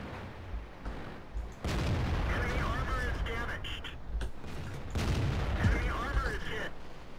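A tank's auto-loader gun fires in World of Tanks, heavy booming shots with rumbling, crackling battle noise that swells in two long loud stretches. A voice talks over parts of it.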